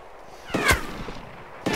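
A gunshot from the video game DayZ Mod cracks once loudly in close range, with a faint second report at the very end of the short burst.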